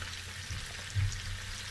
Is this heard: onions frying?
yes